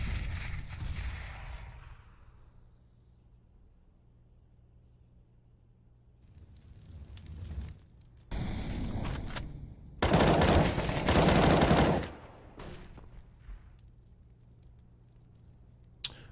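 Counter-Strike: Global Offensive match gunfire in an esports game, quiet stretches broken by loud bursts of rapid shots and rattling sprays, fairly close, with no talk over it.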